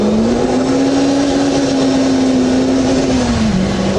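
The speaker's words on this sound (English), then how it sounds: "Wheel spin with the inside wheel." Lotus Elise S pulling hard in second gear with the inside wheel spinning: a loud, sustained engine drone holds a steady pitch, then dips slightly near the end, with no voices.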